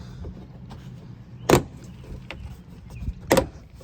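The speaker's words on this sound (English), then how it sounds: "you can just pull on the side of the bumper, and that should," Plastic rear bumper of a Honda Accord being pulled free of its side clips, giving two sharp, loud pops about two seconds apart over a quiet background.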